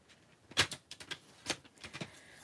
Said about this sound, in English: Let me just quick trim this down.